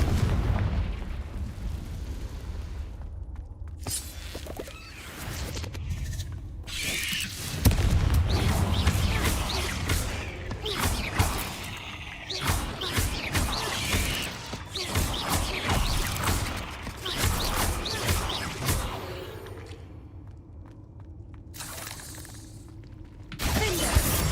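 Repeated spell explosions and shattering blasts from Confringo casts in Hogwarts Legacy, a fantasy video game, firing in dense bursts through a spider fight with brief quieter gaps.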